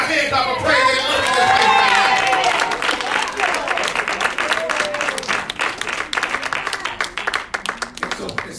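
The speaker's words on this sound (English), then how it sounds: "Somebody give him a hand clap of praise." Congregation in a church service bursts into loud hand clapping and cheering with whoops, swelling at first then settling into steady dense applause, with voices calling out over it.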